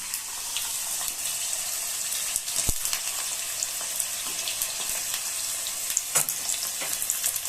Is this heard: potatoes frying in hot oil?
yes